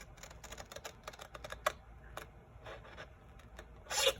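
Large scissors snipping paper up to a drawn line for a pop-up envelope, a run of quiet, close, crisp cuts and rustles spaced irregularly, with a louder burst of handling at the end.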